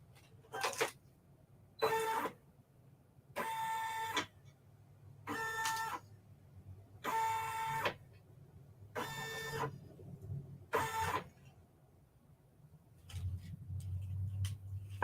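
A Brother SE1950 embroidery machine traces its design outline, moving the hoop in seven distinct whirring, buzzing bursts separated by short pauses, close and clear, with a lower rumble near the end.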